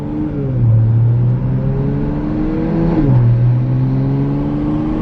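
A tuned MK5 Toyota Supra accelerates hard, its engine rising in pitch through two gear changes with a brief dip between them, loud and close, with no voices.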